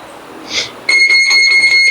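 Boxing gym round bell rings out sharply at about the one-second mark, a sustained metallic ring that continues to the end, following a brief softer buzz and faint background chatter in the room.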